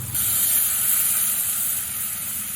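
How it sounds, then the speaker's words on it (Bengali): Hot water poured into a pan of spices fried in oil for a Bengali bhetki fish kaliya, giving a loud steady hiss and sizzle that holds for a couple of seconds with no talk. "এবার আমার পাশে বার্নারে গরম জল আছে, পরিমাণ মতো জল দেব।"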